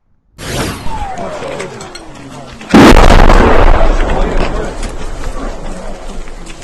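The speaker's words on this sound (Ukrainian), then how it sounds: "Видно величезний та потужний вибух" A faint whistling descent is followed by a sudden, massive blast that rolls on as a loud, sustained rumble.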